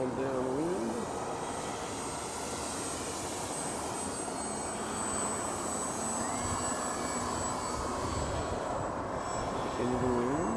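An E-flite Timber RC plane on floats flies under power, its steady electric motor drone continuous throughout with faint tonal whine above, moderately distant, with occasional outdoor background noise.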